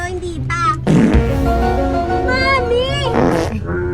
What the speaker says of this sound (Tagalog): Sino yung umutot?